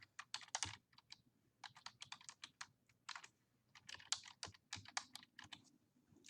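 Typing on a computer keyboard, quick clusters of light key clicks with brief pauses between bursts, close and fairly quiet in an otherwise silent room.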